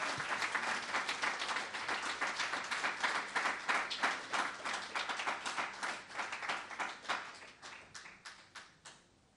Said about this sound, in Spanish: Dele un aplauso al Señor, que Él vive y vive para siempre.